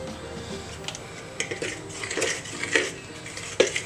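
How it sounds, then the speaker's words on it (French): Cookie dough with peanut flour and protein powder being mixed in a bowl, heard as scattered scrapes and clinks of a utensil against the bowl, growing busier toward the end with a sharp knock near the close. "Okay, on va déjà mixer un peu cette partie."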